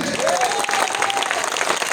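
Loud, dense clapping from an audience at a Jubo Dal workers' meeting in Barunagaon, steady and continuous for the full stretch with crowd noise mixed in.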